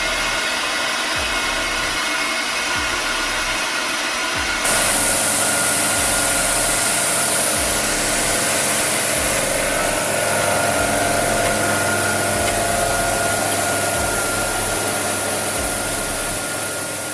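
An OZmist dosing pump runs in an odour suppression system, giving a loud, steady mechanical hum with a regular low pulsing throb. Partway through, a brighter, hissing layer joins the sound and keeps going without a break.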